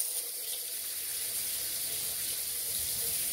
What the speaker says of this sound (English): I like to use lukewarm water to rinse my hair out